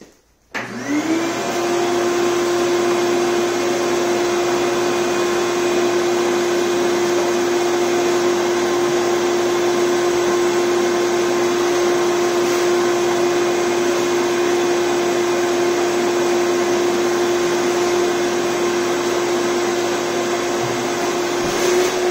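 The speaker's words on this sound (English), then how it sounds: "let me vacuum it first. I think the dust is getting on it and not letting it stick" A vacuum cleaner runs steadily and loudly throughout, sucking dust off a kitchen cabinet during a cheap renovation, its motor holding a constant whine from start-up to the end with no talk.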